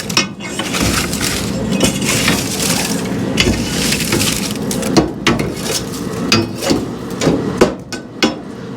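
Burning wood in the firebox of a Central Boiler Classic Edge outdoor wood boiler is stirred and scraped, with repeated knocks, crunches and splintering clatters, loud and close, coming in irregular bursts.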